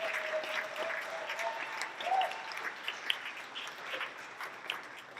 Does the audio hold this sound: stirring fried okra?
no